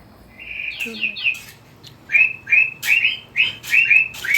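A bird chirping close by: a few early calls, then a steady run of loud, sharp whistled tweets repeating in quick bursts.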